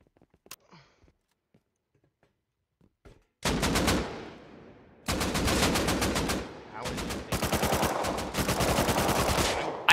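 Rapid automatic gunfire in the Rust Console Edition game, a few faint clicks and then long, loud sustained bursts broken by short pauses, close and dominant.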